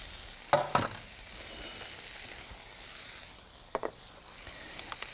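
Spinach resting on black beans in a hot pan gives a steady, soft sizzle and frying hiss, broken by a couple of sharp clinks and scrapes of a utensil against the pan.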